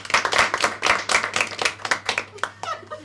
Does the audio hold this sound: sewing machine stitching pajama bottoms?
no